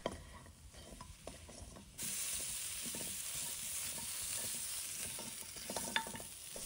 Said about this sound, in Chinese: 直接放入锅中，把它翻炒一下，炒干水分